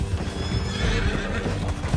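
A horse gallops and whinnies while ridden in Red Dead Redemption 2, with steady hoof clip-clops and neighs over a dense rumbling game soundscape. Nobody speaks.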